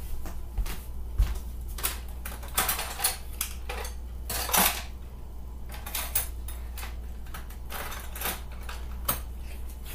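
Cutlery rattles and clinks as a spoon is fetched in a kitchen, a run of short, bright metallic clatters and knocks scattered across the moment over a low steady hum.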